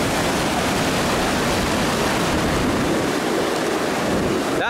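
Ocean surf rushing continuously, a dense broadband wash of breaking waves with steady loudness, close and enveloping, with no voices.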